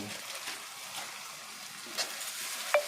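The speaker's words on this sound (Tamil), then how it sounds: "ஆயில்ல இஞ்சி பூண்டு பேஸ்ட் பண்ணி கொஞ்சம் நல்லா ஃப்ரை பண்ணிட்டு" Ginger garlic paste sizzles in hot oil for a chicken gravy, giving a steady, fairly quiet frying hiss throughout, with a few faint clicks and pops toward the end.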